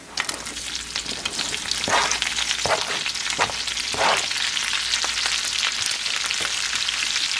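Chopped onion sizzles and crackles steadily in hot bacon fat in a pan, with occasional louder bursts as it is stirred, continuous and close, with no talking.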